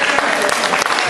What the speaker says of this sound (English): I want everybody to clap their hands for Howard.